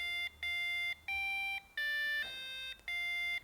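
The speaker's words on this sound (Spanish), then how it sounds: "hemos asignado a distintas distancias del sensor de ultrasonidos distintas notas musicales por el zumbador" A piezo buzzer driven by an ultrasonic distance sensor plays a series of shrill, electronic musical tones, about six separate beeps that step between pitches, loud and alone with short gaps.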